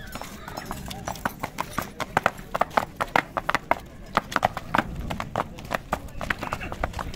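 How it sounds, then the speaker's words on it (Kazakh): A horse moves over hard ground, its hooves clip-clopping in a quick, uneven rhythm of sharp, close knocks, with people talking faintly underneath. "Ат өзү мына кыймыл аракеттери."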